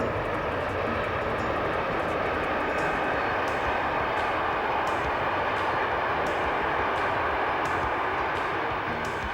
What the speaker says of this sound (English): Leaving Thun by rail, our train passes Lake Thun.